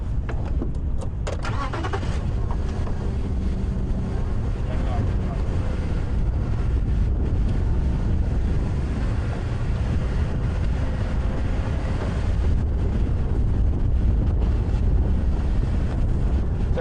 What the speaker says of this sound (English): So a very gusty, windy morning